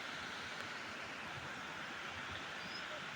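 Water from a hot spring runs through pipes into a pool near the Rangit river, a steady broadband rush with no breaks, faint and continuous.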